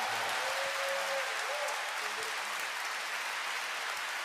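A live concert audience in Zala Bulgaria applauds a singer, a dense, steady wash of clapping filling the hall, with a voice speaking over the start of it.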